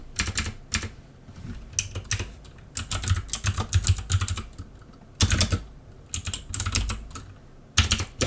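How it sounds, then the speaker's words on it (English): Rapid typing on a computer keyboard in bursts of clattering keystrokes, close and fairly loud, with short pauses between flurries. "Why do I keep typing Vassal?"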